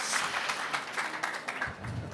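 Audience at a high-level climate action conference event applauding, a brief moderate burst of clapping somewhat distant in a hall.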